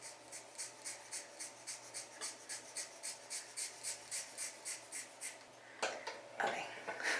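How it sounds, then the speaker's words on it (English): Scissors snip through hair at home in a steady run of about twenty crisp, evenly spaced cuts, close and soft, followed by a couple of louder rustles. "I'm gonna cut this part of my hair off"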